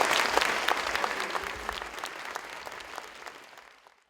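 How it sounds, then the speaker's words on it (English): A round of applause for photographer Fred Herzog at a retrospective event, brisk clapping from a gathered audience that gradually thins and fades out toward the end. "And big round of applause for Fred."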